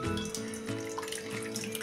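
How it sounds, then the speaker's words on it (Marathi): Whisked dal is poured into a kadhai, a short close liquid pouring and splashing sound, continuous and without any talking. "ही घोटलेली डाळ पण आता ह्या कढईत ओतून घेऊया।"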